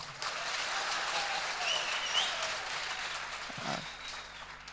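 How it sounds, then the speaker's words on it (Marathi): An audience at an award ceremony claps together in a sustained round of applause that sounds fairly distant and soft, with a low murmur under it. "टाळ्या पिळ्या वाजवत"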